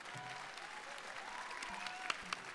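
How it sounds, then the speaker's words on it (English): Faint, distant applause from a festival concert audience, a soft wash of clapping with a few sharper claps standing out toward the end. "let's give a round of applause for everybody"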